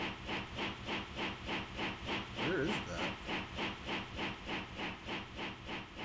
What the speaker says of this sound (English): there's a train trying to run, it sounds like